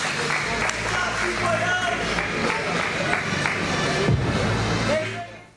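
A pro wrestling crowd applauds and cheers in a steady, dense roar of clapping and voices, with an announcer talking over it.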